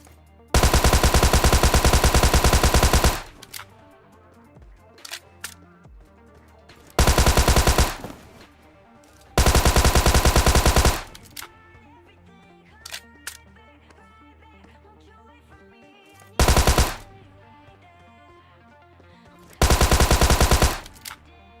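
Tommy gun fire in a video game, four loud sustained automatic bursts of a few seconds each separated by quieter gaps with faint game sounds.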